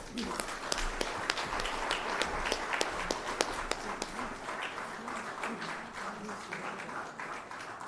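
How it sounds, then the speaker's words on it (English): Scattered clapping from an audience at a broadcasting union opening ceremony, sharp overlapping claps with a busy room murmur underneath, tapering slightly toward the end. "A round of applause."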